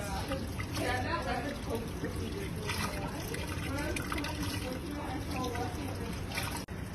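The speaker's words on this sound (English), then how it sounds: "With water flowing above the wrist to her fingertips." Tap water runs and splashes steadily over hands, a continuous close trickle with a voice faintly present underneath.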